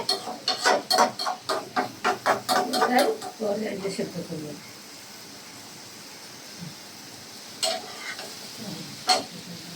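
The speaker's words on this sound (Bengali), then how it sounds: "একটু সুন্দর করে ভাজা ভাজা করে" Chopped papaya frying in butter and olive oil, sizzling under a run of rapid scraping stirs for a few seconds, then settling into a quieter hiss broken by a few sharp clatters.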